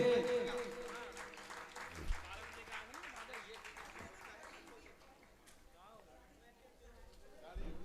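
An audience at a religious ceremony claps, a soft, scattered patter of hands blended with singing and music at a distance.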